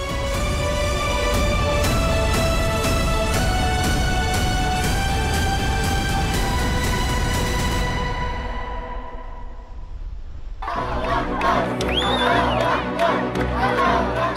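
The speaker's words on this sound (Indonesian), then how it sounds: "Sorak-sorai dan rasa syukur mewarnai reaksi warga Gaza atas kesepakatan gencatan senjata dan perjanjian damai antara Hamas dan Israel" Crowd of Gaza residents cheering and shouting in celebration of a Hamas-Israel ceasefire, a loud, dense roar of many voices that swells in after a stretch of steady tonal sound and continues unbroken to the end.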